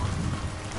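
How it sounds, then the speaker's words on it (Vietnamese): Heavy rain pours steadily outside on a stormy night, a dense, even hiss with a low rumbling underneath, brief and without any voices. "ngoài trời mưa thế kia"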